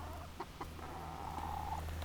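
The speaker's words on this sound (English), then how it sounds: "So those are Paluana chickens." Small Paluana chickens cluck softly nearby on a garden railway layout, with a few short clucks followed by a longer drawn-out call over a low background hum.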